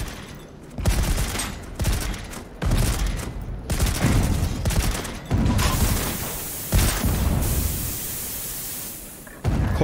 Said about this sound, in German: Granaten in der Hand mit der 4 und dann geht's los